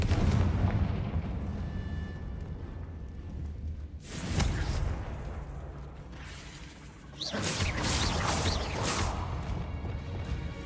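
Confringo explosion spells go off in the video game Hogwarts Legacy, two loud booming blasts with crackling debris that roll on for a few seconds each, over a steady rumbling background.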